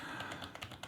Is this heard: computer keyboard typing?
yes